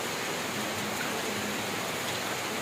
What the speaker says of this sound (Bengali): অনেকক্ষণ ধরে বৃষ্টি হচ্ছে